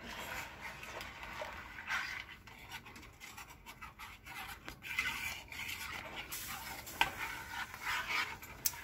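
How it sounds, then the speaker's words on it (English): Homemade hot chocolate being stirred in a pot, soft scraping and swishing strokes of a spoon, faint and close with irregular rhythm and a couple of sharper clinks. "let's stir that up"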